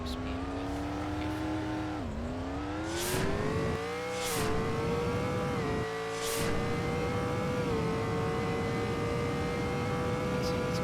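Video game car boosted with rocket fuel accelerating toward top speed: a steady, rising engine whine that dips briefly at each gear change, punctuated by short hissing bursts, with no voices.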